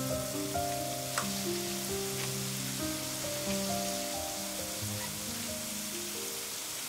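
Oil sizzles and crackles steadily as sweet potato balls deep-fry, a constant hiss beneath soft background music.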